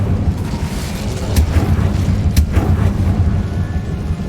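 Incendio fire spell blast in Hogwarts Legacy, a loud booming burst with deep rumbling roar and two sharp crackling spikes, lasting a few seconds with no talk.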